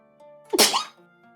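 One sharp, close sneeze bursts out abruptly after a quiet moment during a tabletop game session, with faint background hum around it.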